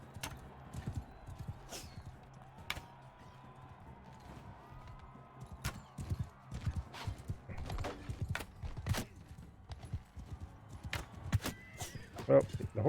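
Horse hooves clip-clop in the medieval combat game Mount & Blade II: Bannerlord, a fairly faint, irregular patter of hoofbeats mixed with sharp clacks and impacts, with a voice talking throughout.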